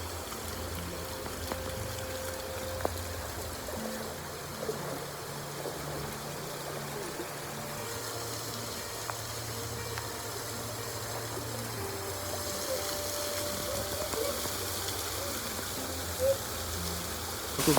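Shallow forest stream flowing near Manan Ella waterfall in Sri Lanka, a steady trickling rush running throughout at moderate level with faint background activity.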